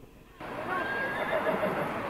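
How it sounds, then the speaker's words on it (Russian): Horses neigh beside a horse-drawn carriage on a winter outing, a drawn-out whinny rising after a brief quiet start and carrying over steady outdoor noise and the carriage's rumble. "Слушайте, как лошади ржут."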